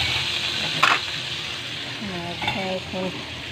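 Vegetables and fish frying in a pan for a Filipino vegetable soup, with a soft sizzle under a brief clatter as the ingredients are stirred and turned over, then quieter frying with faint voices.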